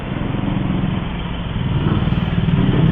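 A black Yamaha XSR 900cc motorcycle on an early-morning breakfast ride, its engine a close, steady, throbbing rumble that swells slightly louder toward the end.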